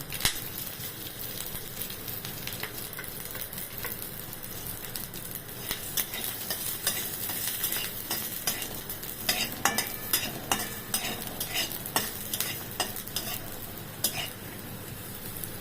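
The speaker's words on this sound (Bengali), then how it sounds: "লাল লঙ্কাটা ভাজতে ভাজতে আমি একটু রসুনটাও ভেজে নেব।" Red chillies and garlic fry in oil in a wok for a jackfruit dish, a continuous crackling sizzle punctuated by frequent scraping and clinking stirs of a spatula, busier in the second half, with no talk.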